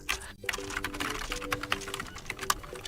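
Rapid typing on a computer keyboard while entering database column names, a dense stream of crisp clicks and taps with a faint steady hum underneath.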